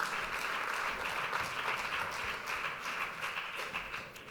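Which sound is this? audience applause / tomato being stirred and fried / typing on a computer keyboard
audience applause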